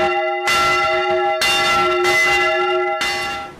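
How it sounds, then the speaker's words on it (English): Church bells of St John's Church in Bollington ring out in a loud, sustained peal, with fresh strikes landing roughly every second and a half over a ringing, overlapping hum, no voices present. "The bells of St John's Church in Bollington peal out for the final time."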